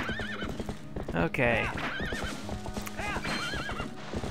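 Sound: horse neighing and galloping in Zelda: Twilight Princess video game

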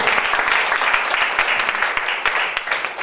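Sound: congregation applauding in church

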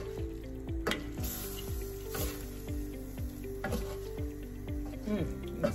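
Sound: stirring ackee and saltfish in the pan

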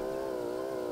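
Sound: motorcycle revving in a bike obby video game

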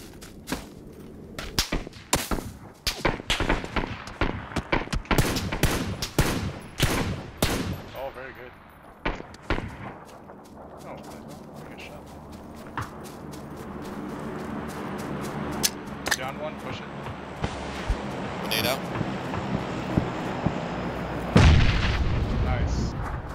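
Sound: gunfire in the video game PUBG

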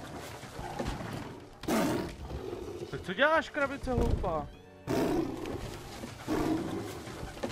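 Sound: tiger roaring in video game Assassin's Creed Chronicles India

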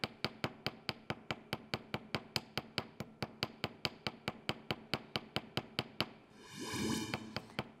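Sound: hammer strikes shaping a silver ring

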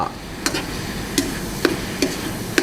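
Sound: stir-frying sago pork filling until the water dries

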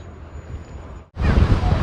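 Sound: strong wind by the sea

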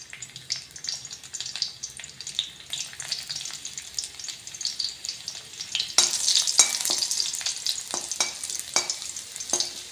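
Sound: garlic sautéing in hot oil

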